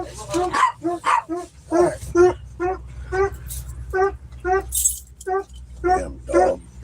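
Dog barking repeatedly in a quick, regular series of sharp, loud barks close by, with brief gaps between them, joined by a faint metallic jingle.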